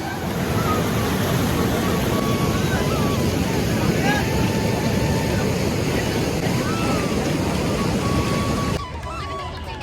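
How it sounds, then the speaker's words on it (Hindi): Water rushes down the artificial waterfall at Ram ki Paidi in Ayodhya, a dense, continuous roar that fills the scene close to the listener, fading abruptly near the end. "पूरा झरने से जो पानी आ रहा है।"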